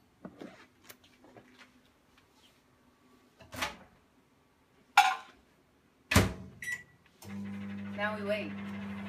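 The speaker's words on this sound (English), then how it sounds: "We'll stick this guy in the microwave." After a few clunks and a beep, a microwave oven starts up with a steady low hum, running continuously.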